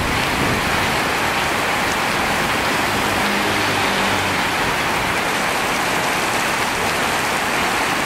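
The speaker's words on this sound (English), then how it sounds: "it's raining so bad right now" Heavy rain pouring down outdoors near temples in Chiang Rai, Thailand: a dense, steady, loud roar of rainfall that stays unbroken throughout, with no voices.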